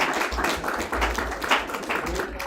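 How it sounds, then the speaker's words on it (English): Applause for Mr. Robert at a live-streamed tech session, a modest group clapping in uneven bursts, close and moderately loud over a low rumbling room tone. "Let's give a round of applause for Mr."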